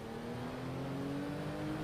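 A car engine in the video game GTA V hums and revs steadily at a sustained pitch, loud and continuous for the whole moment, with no talk over it.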